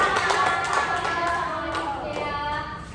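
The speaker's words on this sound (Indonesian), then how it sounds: "Tepuk tangan dulu untuk Dea." Light, uneven clapping from a small group of pupils in a classroom, with several soft hand claps partly mixed with children's voices chattering over them.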